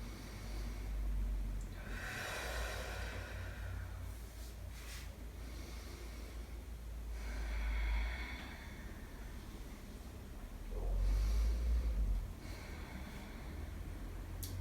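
Slow, breathy exhalations during seated yoga breathwork, soft and close, rising in a few long broad swells around steady low room rumble, with no talking.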